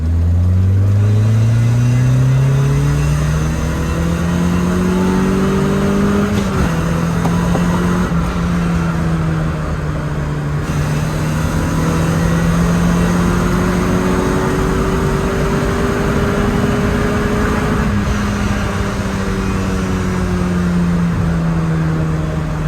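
A car pulls hard in third gear, its engine note rising steadily and loudly as it accelerates, with brief dips at shifts and a sustained droning rev heard up close throughout.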